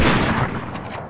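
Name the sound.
gunfire in Fortnite zero build video game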